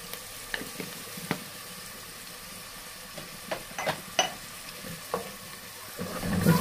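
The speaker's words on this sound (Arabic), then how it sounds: "وتبتدي تقلبي في البصلة لحد ما تدبل معانا وتخش على يعني سنة من اللون الذهبي" Onions frying in hot ghee crackle softly while a spoon turns them with scattered scraping knocks against the pot, quiet and close, the sizzle swelling louder near the end.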